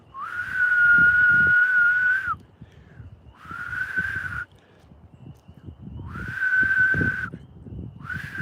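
Three sustained, steady whistled notes, each a couple of seconds long, separated by short pauses, close and fairly clear with faint background rustle.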